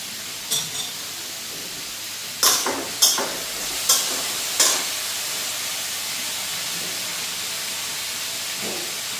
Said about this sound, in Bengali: তারপরে এটা পেঁয়াজ দিয়ে ভাজা দিচ্ছি